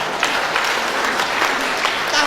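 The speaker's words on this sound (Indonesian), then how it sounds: "Tepuk tangan dulu tuh Anda." Steady applause from a seminar audience at a motivational talk, dense continuous clapping throughout with no speech over it.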